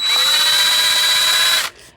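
A power drill fitted with a punching attachment runs steadily through a metal tin, giving a loud, high-pitched whine that holds for nearly two seconds and then cuts off abruptly.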